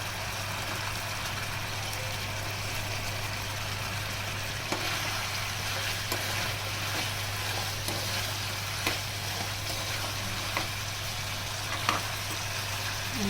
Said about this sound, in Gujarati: હવે આપણે ફ્રાય કરેલા મંચુરિયન નાખશું